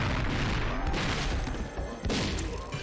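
Hand cannon firing in House of the Dead Overkill, heavy booming blasts packed into a dense, continuous barrage with rumbling thuds that swell and dip throughout.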